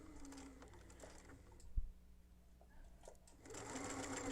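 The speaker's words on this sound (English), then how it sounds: "I'm going to make sure I sew as far back until I hit the edge of the fold here" A sewing machine stitching the seam of a small bag, a quiet close whirring run of stitches with a brief pause and a knock partway through before it picks up again.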